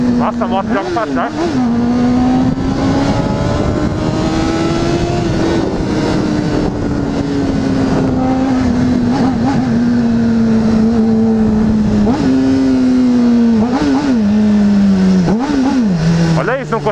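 A Honda CBR600RR sport motorcycle engine pulls hard at high revs, its loud whining note climbing and dipping with gear changes over about seventeen seconds, while a rider talks over it.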